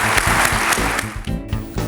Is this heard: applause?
yes